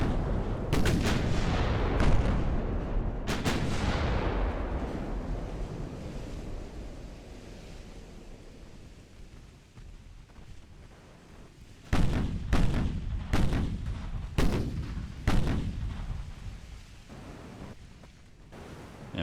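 Naval gun salvos from warships in the video game Ultimate Admiral: Dreadnoughts, including a destroyer's 5-inch guns, boom out as heavy blasts with long rumbling decay, then a rapid cluster of several sharp shots, with no talk.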